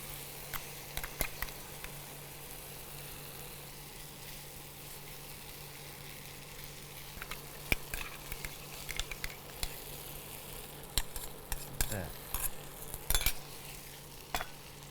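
Tender coconut flesh fries in oil with a continuous soft sizzle, while a spoon scrapes and stirs the pan in irregular clicks and taps, close and moderately quiet.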